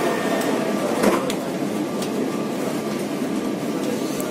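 A Rio de Janeiro metro train runs, a steady broad rumble and hiss with faint clicks and rattles throughout, close and even in level.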